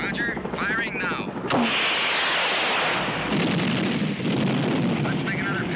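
Helicopter rockets fired at a snow mass on a mountain plateau: a sharp launch blast followed by a long, loud roaring rush under steady rotor noise, with radio chatter over it.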